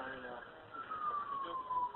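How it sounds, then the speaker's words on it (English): A distant siren wails faintly with a slowly falling tone under muffled talk and low background noise. "I hear the sirens."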